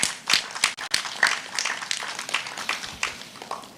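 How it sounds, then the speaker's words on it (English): An audience at a youth agriculture symposium applauds two speakers, a steady burst of many hands clapping at moderate loudness, close and continuous, with no talk over it. "I would also ask that you give Mr. Paris and Mr. Ali a round of applause for the platform that they had set."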